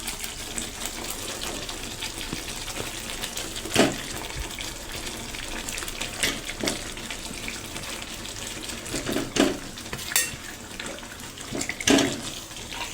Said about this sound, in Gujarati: હવે આપણે તેને હલાવી લઈશું ચમચા વડે.